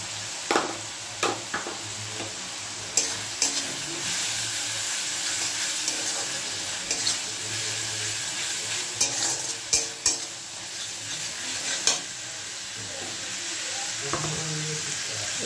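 Garlic and ginger paste sizzles in hot oil while being stirred for a Bengali chicken masala gravy. A steady hiss of frying runs throughout, punctuated by repeated sharp scraping clicks of a spoon against the pan.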